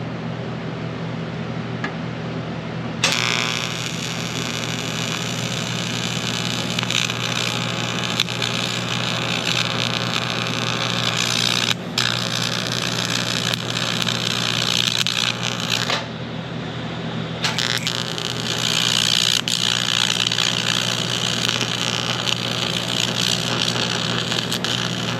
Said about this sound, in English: So I'm gonna try to weld it without cleaning this off first